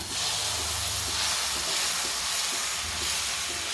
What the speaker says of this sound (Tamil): முடக்கருத்தான் தோசையை ஊற்றுவோமா?